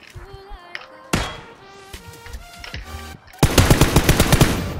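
Rapid video game gunfire cracks out in loud, close bursts, ending in a dense rattling volley of repeated shots layered over electronic game tones.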